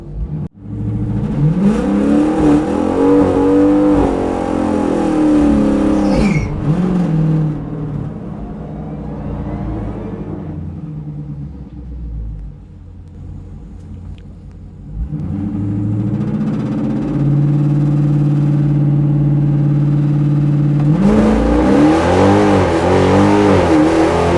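A stock-tune naturally aspirated 392 Hemi car launching at a drag strip, its engine revving and holding RPM, then roaring hard down the track, dropping off and returning with loud sustained engine noise, close and alone.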